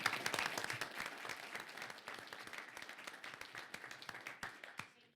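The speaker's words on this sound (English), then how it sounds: "give him a huge round of applause" An audience at a city council and redevelopment agency board meeting breaks into sustained applause, dense clapping that carries on evenly before tapering off and stopping near the end.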